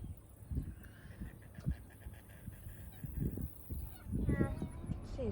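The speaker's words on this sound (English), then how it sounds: "Finnegan, I'm trying to listen to the birds." Geese-like birds honk repeatedly at Lake Apopka's north shore wildlife drive, a series of moderately distant calls with faint voices and background noise underneath.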